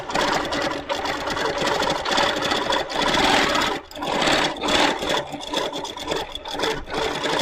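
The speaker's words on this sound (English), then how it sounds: "Back to quilting." A Moxie machine doing free motion quilting gives a loud, steady mechanical whir that runs through the whole stretch with only brief dips in pace.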